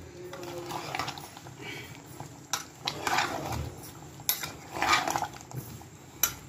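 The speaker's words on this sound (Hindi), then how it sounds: "अब ये लौकी जाएगा गोश्त में, इसको डाल के हम भूनेंगे" A metal spoon scrapes and clinks against a pot as bottle gourd is stirred and fried with meat, irregular knocks and scrapes over a faint sizzle, fairly quiet and close.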